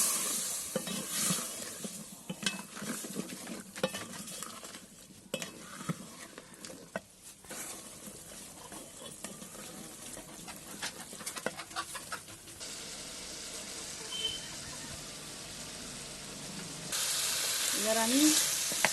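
Singi fish curry with green banana and potatoes sizzles and fries in a pan, with steady stirring and scraping close by and a louder, hissing burst near the end, in a home kitchen without talking.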